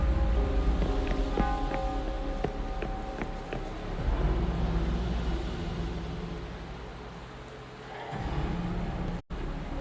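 Retroact rain falling in a video game, a steady hiss of rainfall under low ambient drones and faint tonal chimes, fading softer toward the end.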